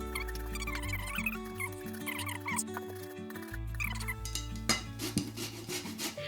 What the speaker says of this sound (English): I like using this grater because this is a lot more secure for me than the one that you just push down and do this.